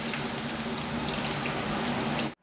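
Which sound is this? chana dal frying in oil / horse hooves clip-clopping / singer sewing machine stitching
chana dal frying in oil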